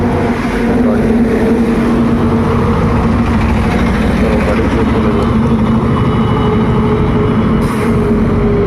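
A motorbike on its stand idles in neutral with a steady, loud, close engine drone and a low hum that stays even throughout, with no revving and no voices.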